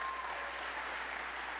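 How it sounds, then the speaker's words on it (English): Faint, steady applause from a crowd at a Republican political roast-and-ride event in Iowa, a continuous wash of clapping heard from a distance. "Give her a great round of applause."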